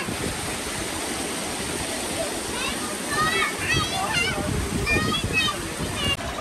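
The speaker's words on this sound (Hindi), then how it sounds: "यहाँ से पानी निकल रहा है पहाड़ों के अंदर से" Water gushing out from inside mountains beside the Swat River, a steady loud rushing and splashing close by, with people talking over it.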